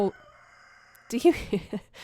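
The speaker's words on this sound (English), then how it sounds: "So I live in the country, and that was my rooster, Francis, and he will continue to do that." A country rooster crows once, loud and close, a long rising-then-falling call after a stretch of near silence, with a few clucky bursts trailing at the end.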